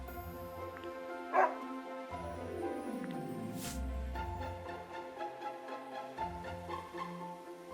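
A small dog named Princess barks and yips in the game Another Code Recollection, a few short barks over a steady background music bed, fairly close and moderately loud.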